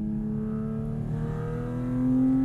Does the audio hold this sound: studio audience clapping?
no